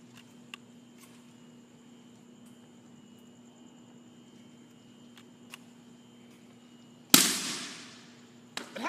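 A pressurized toy rocket launches with a single sharp whooshing burst that fades quickly, following several seconds of near silence with faint ticks; a small click follows shortly after.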